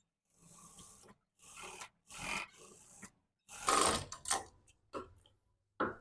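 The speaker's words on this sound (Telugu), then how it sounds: "ఇప్పుడు ఎడ్జ్ వైపు నుంచి ఒక కుట్టు వేసేసుకుందాం" A sewing machine stitches along the edge of a piece of cloth in a series of short, close bursts of rapid mechanical running separated by brief pauses.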